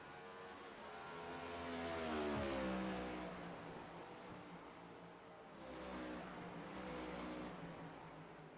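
Several race cars roar around a dirt oval in a Tech4Troops Series feature race, engines rising and falling in pitch as they pass, with a crowd-like wash of engine noise throughout and no talk.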